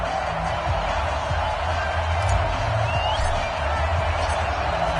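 Stadium crowd in a Baltimore Ravens versus Dallas Cowboys football video game, a steady dense roar of cheering and murmur that fills the scene without pause, with faint commentary beneath.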